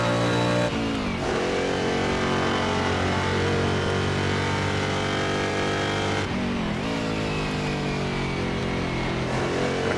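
Historic sportscar race engines in Assetto Corsa at Riverside roar continuously and close. The pitch winds up, then dips abruptly at quick gear shifts early on and again near the end.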